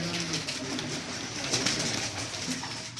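Pigeons perched below, Teddy and Blue-barred types among them, coo softly and steadily against a constant hissing background, fairly faint and continuous without any talk.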